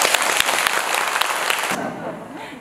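Worshippers at a Seon Buddhist center ceremony applaud the monk after his Dharma talk: a dense, fairly loud burst of clapping that stops abruptly after about two seconds, leaving a quiet room.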